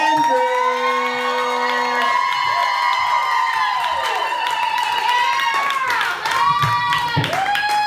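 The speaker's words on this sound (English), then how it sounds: "Big round of applause." A comedy show crowd cheers loudly for first-time performer Caitlin Andrews, with long rising and falling whoops and shouts over a continuous roar of applause.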